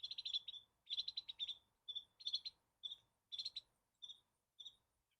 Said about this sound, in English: Oh no, it's a bird.